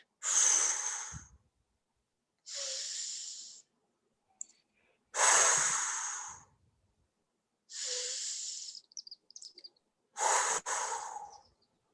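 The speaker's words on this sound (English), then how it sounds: "those are some pretty big breaths" Five big, deep breaths, each a broad airy burst lasting about a second, drawn in and pushed out one after another with short silent pauses between them. They are performed for a puppet in a screen performance workshop.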